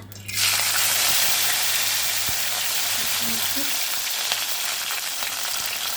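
Fenugreek leaves drop into hot oil and sizzle loudly right away, a steady close frying hiss that continues unbroken to the end.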